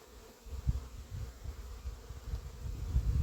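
Honeybees on a hive frame during queen rearing, a low, wavering buzz of many bees close to the microphone, rising and falling without pause.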